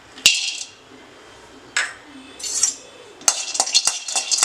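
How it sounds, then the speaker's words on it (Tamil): Almonds and pistachios dry-roast in a pan over a slow flame, with a spoon stirring them in short bursts of metallic clinks and rattles separated by quiet gaps. "இதை நீங்கள் நல்லா ஸ்லோ ஃப்ளேமில் வச்சு அழகாக வறுத்தீங்கன்னா நல்ல ஒரு ஃப்ளேவர் வரும் பாதாம்லேருந்து"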